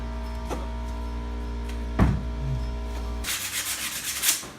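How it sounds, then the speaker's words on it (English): Wooden lath pieces being sanded by hand during a farmhouse renovation, a few short scraping strokes near the start, then a steadier, rougher rubbing that grows louder toward the end, close up with no talk. "gonna sand it up a little bit"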